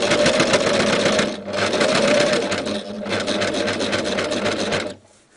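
An overlocker stitches a flatlock seam, running in a steady, loud mechanical whir with rapid needle clatter, pausing briefly twice before stopping near the end.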